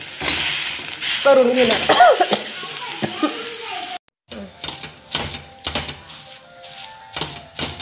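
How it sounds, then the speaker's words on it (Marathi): Green chillies crushed on a hot griddle (tava) for spicy Kolhapuri thecha: repeated pounding knocks and scraping over a steady sizzle, close and fairly loud, with a voice speaking over it and a brief silent break midway. "हे गरम असतेवेळी ठेच मिरच्या अशा ठेचून घ्यायच्या आहेत, नाहीतर त्या मिरच्या चामट होतात"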